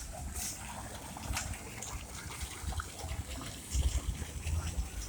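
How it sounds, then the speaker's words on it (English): Soft, continuous splashing and trickling of water from a fountain in Bridgetown, Barbados, fairly faint, with occasional louder gushes and low background rumble. "The water fountain here again."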